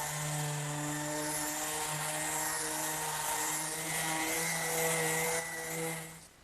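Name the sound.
palm sander finishing a wooden tabletop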